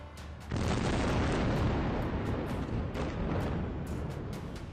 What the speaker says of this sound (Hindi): जैसे ही दोपहर के करीब 2:30 बजे ब्लास्ट हुआ, एक जोरदार धमाके की गूंज दूर दूर तक सुनाई दी।